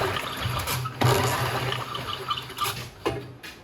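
Recoil cord yanked several times on a Honda HR17 push mower whose spark plug is wet and carburetor flooded, giving a few rough whooshing pulls close by without the engine catching.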